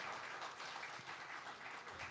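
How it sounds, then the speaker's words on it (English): Faint, steady applause from an audience at a live jazz trio show paying tribute to Ella Fitzgerald, a soft wash of clapping that continues without a break. "Chanda Graham, give her another round of applause."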